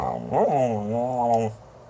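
A dog gives a close, drawn-out vocal grumble that rises and wavers for over a second and then trails off, with no talk over it.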